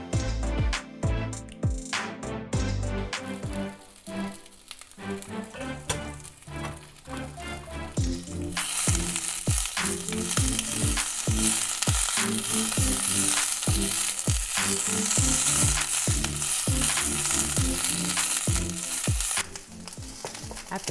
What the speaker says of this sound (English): After a minute of stirring them around a little bit, I'm going to cover them and cook for another 4 minutes.